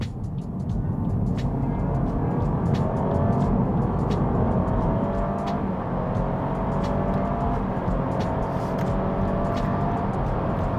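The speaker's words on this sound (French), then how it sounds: "Ça va aussi nous permettre d'entendre l'accélération avec cette fameuse simulation de passage de rapport." Honda Civic e:HEV hybrid accelerating from a toll barrier, heard from inside: a steady engine drone and road rumble rising with simulated gear shifts, with faint clicks over the cabin hum.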